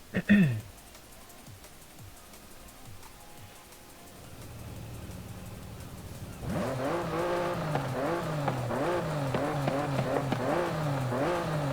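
Noble M400 sports car engine in a racing game, starting with a sharp burst, then a quiet low hum that swells into a loud, sustained rev with rising and falling pitch sweeps.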